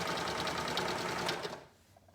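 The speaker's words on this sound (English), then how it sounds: "I'm going to use my serger and just sew down from the top," A serger stitches a pocket onto women's PJ shorts, running steadily at close range with a fast rhythmic whir for about a second and a half before stopping, leaving quiet room tone.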